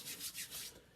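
Hands rubbing a small dab of hair product into short hair for 360 waves, three quick soft swishing strokes up close, then fading.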